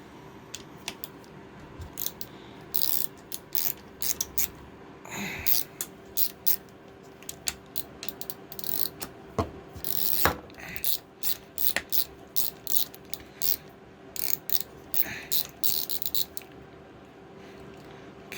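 Shift lever parts are pried out of a 1989-98 Tracker Sidekick transfer case housing, producing an irregular series of sharp, close metallic clicks and ticks with short quiet gaps between them.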